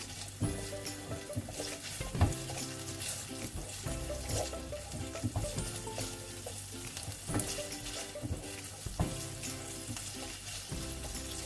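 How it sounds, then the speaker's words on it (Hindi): Chicken pieces for boneless chilli chicken fry in a hot pan, sending up a constant close sizzle, with occasional stirring scrapes and clinks and no talking. "इसको हल्का सा आपने फ्राई कर लेना है इसके अंदर।"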